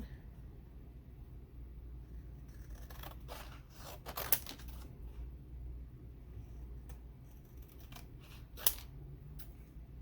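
Scissors snip through paper in a quick cluster of close, crisp cuts, pausing briefly before a few more snips, with two sharper clicks of the blades in a quiet room.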